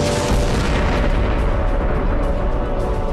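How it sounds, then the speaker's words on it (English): A deep, rumbling boom swells and sustains like a vast cosmic explosion, dense low-end roar filling the whole stretch with no voices. "a mysterious event thrust the universe into motion in a big bang"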